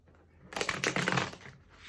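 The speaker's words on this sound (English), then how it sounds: "I personally really like the sound of cards shuffling when I watch readings." A brief riffle of tarot cards being shuffled close up, a dense papery flutter lasting about a second before trailing off.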